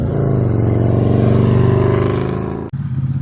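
A 2022 Triumph Bonneville T100 Gold Line motorcycle engine drones loud and close while riding a mountain road in North Wales, holding a steady throbbing pitch that dips sharply at a gear change before resuming.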